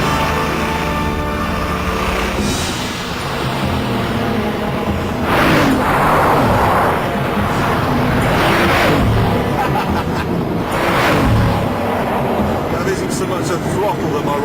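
A Bugatti Veyron at full throttle roars under loud wind rush and voices, with several rising whooshing surges as it accelerates, the engine drone running continuously beneath the speech.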